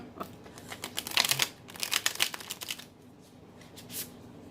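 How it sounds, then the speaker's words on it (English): A thick, gilded tarot deck is riffle shuffled up close, its cards fluttering in two quick rapid bursts before a softer final riffle, with no talking. "we did a nice riffle shuffle there"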